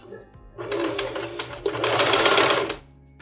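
A sewing machine stitches a narrow fabric strip for a tablecloth edging, running loud and close in two continuous stretches with a slight hitch between them.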